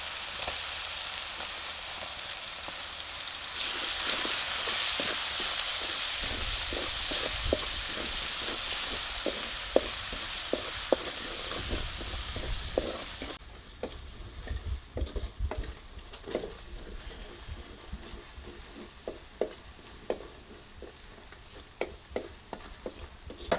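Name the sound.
grated onion frying in pan for gunda curry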